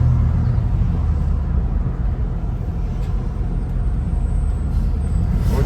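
A 1966 Buick LeSabre convertible rolls through traffic, its engine giving a steady, loud low rumble mixed with road and wind noise that holds even throughout.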